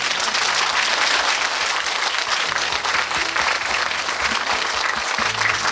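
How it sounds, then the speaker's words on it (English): A gathered audience gives the singer loud, dense, sustained applause that fills the whole stretch evenly, with little else audible. "One more time, applause."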